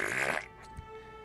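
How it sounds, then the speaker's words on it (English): A loud, buzzy fart lasts under half a second during a tabletop role-playing session, then drops into near silence. "I rip a loud fart for sure"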